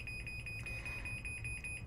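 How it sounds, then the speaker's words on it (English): A Chamberlain garage door opener sounds its warning before the door closes in a smart home: a steady run of short, repeated high-pitched beeps over a low background hum, moderately faint and with no talking. "There's the warning, beeps, flashing lights, tell everyone get out of the way,"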